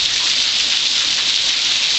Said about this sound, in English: We had hail the size of marbles.